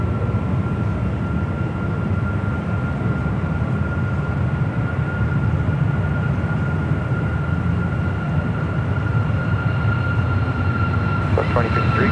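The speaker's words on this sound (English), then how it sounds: "Southwest Airlines flight 2053 heading to San Diego, 737 MAX 8, rolling down at 19" A Southwest Airlines Boeing 737 MAX 8 rolls down the runway on its takeoff run, a steady, heavy rumbling jet roar with a faint whine above it, sustained and fairly loud throughout.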